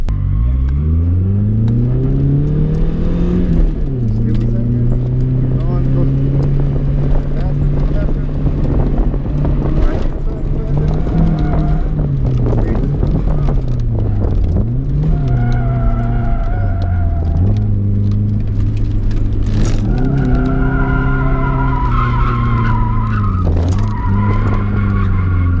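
A car drifting in second gear with clutch kicks, tires screeching and skidding in long wavering squeals over a loud engine rumble that rises and falls with revving, while people talk intermittently inside the car.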